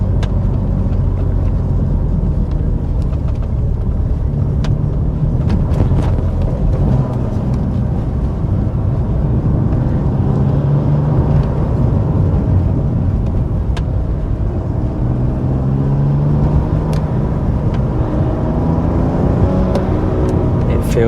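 BMW M2 Competition manual six-speed with a 520bhp+ remap, driving over a rough road: a steady, loud engine and tyre rumble with road noise continuing throughout, with no voice heard.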